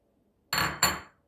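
Chopped cucumbers tumble into a bowl of washed, chopped purslane for a yogurt salad, making two quick close clattering thumps against the bowl in a quiet kitchen.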